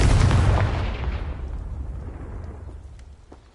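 Explosive Confringo spell detonating in Hogwarts Legacy on PS5: a loud, broad blast that rolls out into a rumbling decay over a few seconds, alone without talk.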